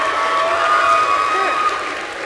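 An audience at a concert claps and cheers in a dense, steady wash that fades slightly at the end.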